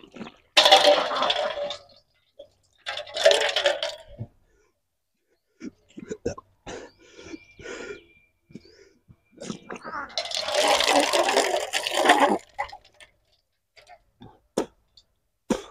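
Water gushes out in three strong bursts as a person regurgitates it during the kunjal kriya yogic cleansing, with retching sounds, splashing and gulps in between, close and loud.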